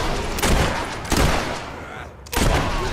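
Bursts of gunfire from a gun in Fable 3 ring out loud and close in three separate volleys, each a dense rattle of rapid shots with short gaps between them.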